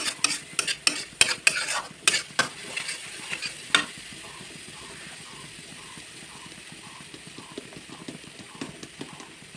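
Cumin, turmeric and cumin powder frying over lowered heat in a pan for a jackfruit curry: quick, sharp scraping clicks of a spoon stirring for a few seconds, then a quieter, steady sizzle alone.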